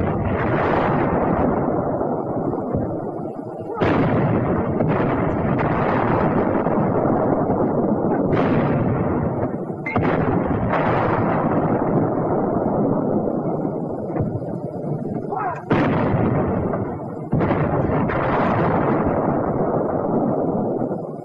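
A 105mm howitzer pounds a concrete roadblock four feet thick, a series of loud, sustained blasts and rumbling impacts recurring every few seconds with no voices over them.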